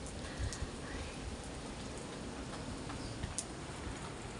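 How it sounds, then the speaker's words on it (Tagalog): Steady rain from Typhoon Carina, a dense hiss of falling drops with occasional sharper ticks and drips, moderately close and continuous, without talk. "sana po naman ay tumigil na ating ulan"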